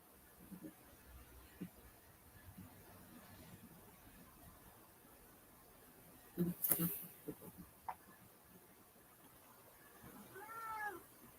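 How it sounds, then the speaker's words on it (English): An indoor cat meowing close by, a few loud drawn-out meows in the middle and again near the end, with a quiet room tone in between and some soft talking. "This cat makes everybody believe he's starving."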